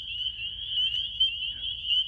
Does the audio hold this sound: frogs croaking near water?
yes